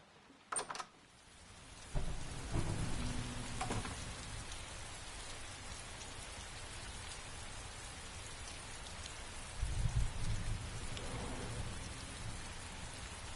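Steady rainfall in the video game Heavy Rain, a continuous moderate hiss of drops on surfaces, with a couple of brief knocks near the start and a short louder swell of low rumble partway through.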